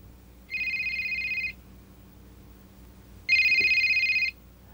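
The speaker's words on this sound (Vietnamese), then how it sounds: "Có thể nghe điện thoại không?" Telephone ringing in two separate electronic trills about a second each, with a pause between them, the second louder, over a low room hum and no talking.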